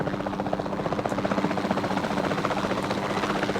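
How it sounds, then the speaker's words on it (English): A capture team helicopter flies in the video game Jurassic World Evolution 2, its rotor beating in a loud, steady, rapid rhythm that fills the whole stretch with a dense engine roar. "Then the sensible thing is to take a capture team helicopter."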